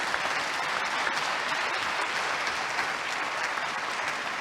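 A conference audience at a tourism event applauds steadily, a dense and sustained patter of many hands clapping at even loudness throughout.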